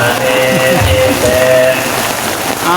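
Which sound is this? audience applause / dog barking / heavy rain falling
heavy rain falling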